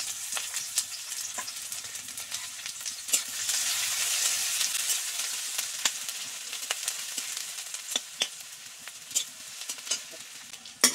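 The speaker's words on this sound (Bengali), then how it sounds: "এগুলো আমি ভেজে তুলে নিব" Dried red chilies and onion fry in oil in a wok for a Bengali recipe, a steady close sizzle running throughout with light stirring clicks and scrapes scattered across it, with no voices.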